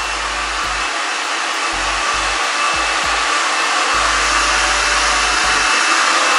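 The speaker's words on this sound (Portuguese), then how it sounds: "usar o secador agora." Hair dryer blowing steadily at close range during an at-home hair straightening treatment late at night, a continuous loud rushing whoosh with no talk over it.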